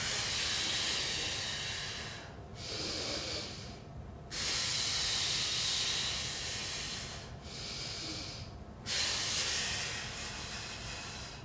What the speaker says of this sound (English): breathe in, make sure everything's hard, and then exhale